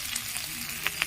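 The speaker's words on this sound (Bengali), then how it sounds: "মাছগুলো একদম লাল লাল করে ভাজা হয়ে গেছে।" Pieces of fish fry in oil with a soft continuous sizzle, and two short pops of spattering oil come near the end, close by with no voices.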